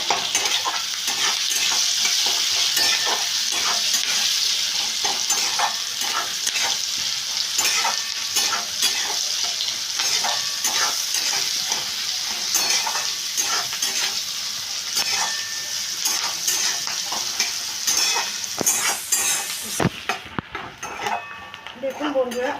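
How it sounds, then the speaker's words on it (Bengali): Chopped onion and green chili sizzle and fry in a pan for an egg biryani, with a steady crackle and occasional stirring scrapes and clinks of a utensil, continuous throughout and cut off briefly near the end. "এবার একটু ভেজে নিচ্ছি পেঁয়াজ কাঁচা লঙ্কাটা।"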